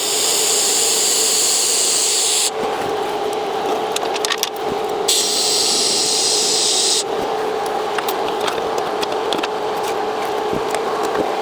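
TIG welding on a stainless steel exhaust: a steady, close electrical hiss and buzz with sharp crackles, switching off and on between welding passes, and no talk.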